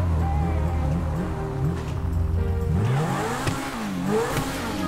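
A Lamborghini Aventador in GTA 5 revs its engine, a loud close whine rising and falling through several sharp throttle blips and gear-like pitch sweeps, alone without voices.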